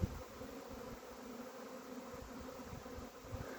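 A honeybee swarm settles into a hive, its many wings making a faint, steady, continuous buzz with no voices over it.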